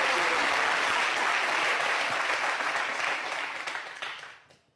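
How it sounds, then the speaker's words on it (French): Dense audience applause fills the room with steady clapping, loud and sustained, then fades out toward the end. "applaudissements pour le CT."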